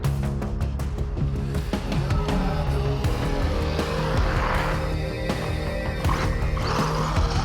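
An HPI RS4 RC car with its engine running and all four wheels spinning, a busy, constant mechanical whine with rising revs and bursts of higher-pitched screech, loud and close throughout.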